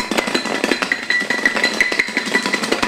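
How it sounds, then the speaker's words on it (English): Garlic cloves rattle and knock rapidly inside a shaken container, a dense rhythmic clatter of hard hits filling the short clip, close and fairly loud with no talking. "The longer you shake it up, the more peeled you garlic gets."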